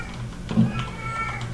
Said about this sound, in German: Ich glaube, die Katze ist das, die da schreit.